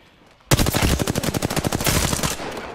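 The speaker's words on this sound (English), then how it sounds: "Taking fire" Automatic gunfire in the video game Apex Legends bursts in abruptly: a loud, rapid string of shots that continues steadily for about two seconds and then tails off, with no talk over it.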